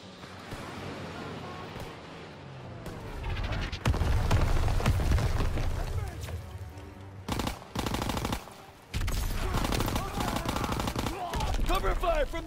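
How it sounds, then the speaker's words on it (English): Call of Duty WWII battle with heavy automatic gunfire and cover fire: bursts of machine-gun shots, booming blasts and dense rattling volleys that come and go, loud and close, with voices shouting under the combat. "I need cover fire on the left"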